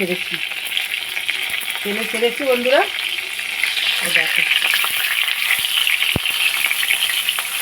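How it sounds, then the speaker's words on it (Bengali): Marinated fish wrapped in pumpkin leaves sizzles and crackles steadily in hot mustard oil in an uncovered pan, close and continuous, while someone speaks briefly over the frying. "এই যে অল্প অল্প করে ভাজছি এইভাবে"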